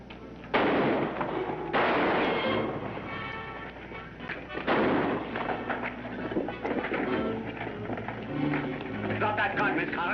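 A gunfight in a 1950s crime drama: sharp gunshots crack loudly, a first burst followed by more shots, mixed with voices and commotion throughout.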